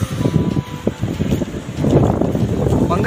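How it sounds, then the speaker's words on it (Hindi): Strong, cold wind blowing outdoors in Haridwar, a rushing broadband roar that rises and swells toward the end, with faint voices mixed in. "बहुत तेज ठंडी हवा चल रही है"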